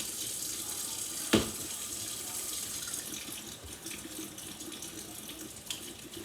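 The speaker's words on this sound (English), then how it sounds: "Let me wash my hands." Hands are washed under a running kitchen tap, a steady soft stream of water with one sharp knock near the start and no talk.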